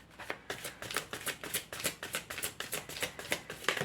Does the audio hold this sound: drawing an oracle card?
yes